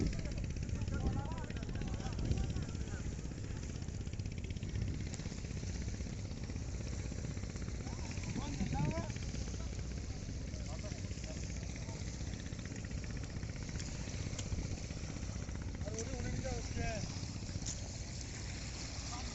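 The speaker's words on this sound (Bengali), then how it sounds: "মোট মোট তিনটি ট্রলার আসছে।" Three trawler boats approach on open water, their engines a steady, continuous low drone that holds throughout, with faint voices talking in the background.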